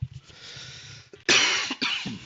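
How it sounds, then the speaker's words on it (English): A close, harsh cough in two bursts, the first loud and the second shorter, after a stretch of quieter breathy sound. "Sorry about this cough."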